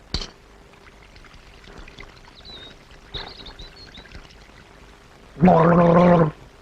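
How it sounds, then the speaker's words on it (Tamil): Sambar is poured in a short, loud splashing gush near the end, after quieter clatter and faint background sounds, with no speech over the pour. "உங்க வீட்டு வேலைக்காரி என் மேல சாம்பார் ஊத்து பாக்குறான்"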